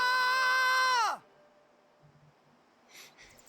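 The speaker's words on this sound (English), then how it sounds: "And so Tidus screamed really, really loud" Tidus from Final Fantasy X lets out one loud, sustained scream that bends downward and cuts off, followed by a quiet stretch with faint breaths and small noises.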